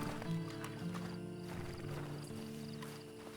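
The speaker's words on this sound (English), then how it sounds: "And you better get on this horse." Horse hooves clip-clop with a whinny in the game Red Dead Online, quiet and clean like game sound effects, with a low steady hum beneath.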